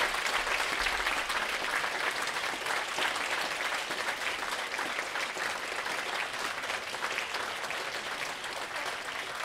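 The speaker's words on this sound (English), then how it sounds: "let's give a massive round of applause again to Claire for such a" Sustained audience applause fills the room at a family food and health event, a steady dense clapping with no pauses, loud and close throughout.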